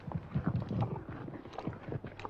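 Horse hooves clip-clop at a walking pace, a steady run of muffled, close-up beats over a low background rumble, with no voices.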